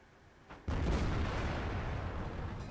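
A Tortoise tank's gun fires in World of Tanks with a single sudden, heavy blast that hits after a brief quiet lead-in and then rolls on as a long, loud, rumbling decay.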